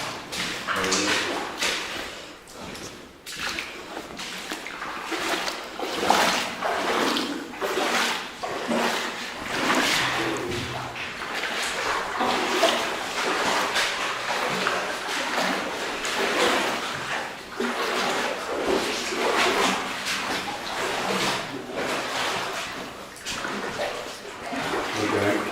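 Water runs steadily through an abandoned fireclay mine, a continuous close rush of flow with occasional knocks, while people talk quietly throughout.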